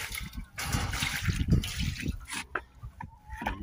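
Water being poured for chickens splashes and trickles in short uneven bursts, close by and fairly quiet, with a few small drips and clatters.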